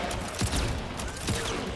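Gunfire from a RoboCop mirror match in Mortal Kombat 11 at EVO, a few sharp gunshot bursts popping over steady crowd and commentary noise.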